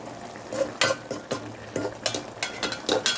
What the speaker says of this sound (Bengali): শুটকি মাছগুলো দিয়ে দিলাম লবণ হলুদ দিয়ে সুন্দর করে ভাজি করে রেখে দিয়েছিলাম এখন দিয়ে দিচ্ছি